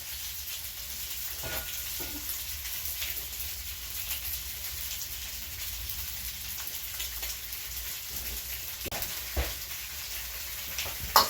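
Pork slices sear undisturbed in a single layer in a hot pan, giving a steady, fairly quiet sizzle with a few sharp pops and crackles near the end, and no voices.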